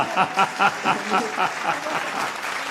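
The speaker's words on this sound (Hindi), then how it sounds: "मैं अच्छा हूं इसलिए आपकी तालियां मुझे चाहिए।" An audience claps at an Avadhi poetry recital, with bursts of applause pulsing in a rough rhythm and voices mixed faintly underneath.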